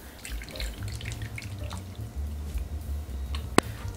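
Water runs and trickles into bael fruit pulp to dilute it for juice, with scattered drips and splashes close by and one sharp click near the end.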